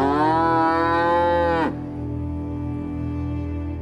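A cow gives one long, loud moo that falls away sharply, followed by a steady low hum of background sound. The setting is a village, and the cow has stopped giving milk.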